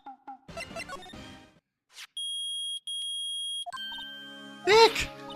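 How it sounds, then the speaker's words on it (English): A metal detector in a video game gives a steady electronic beeping tone, sustained for over a second with a short break, amid other game sounds and chimes before and after. "It's beeping! The metal detector's found something!"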